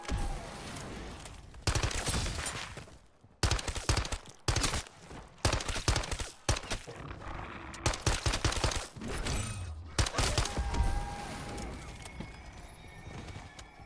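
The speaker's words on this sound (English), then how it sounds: "I kind of like this SMG." SMG fire in a video game, rapid bursts of automatic shots in several clusters separated by short gaps, loud and close, with softer game sounds between bursts.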